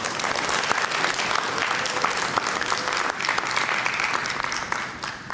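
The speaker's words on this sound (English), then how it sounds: "I welcome a round of applause for her" Conference audience at a plenary opening ceremony breaking into sustained applause for the organizer, a dense, steady wash of many hands clapping that fades slightly toward the end.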